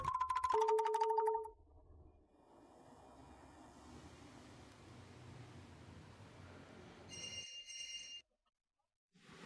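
A telephone rings in a short electronic burst, then gives way to a long stretch of quiet hiss before a brief high tone.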